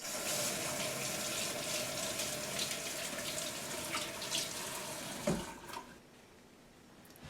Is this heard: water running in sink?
yes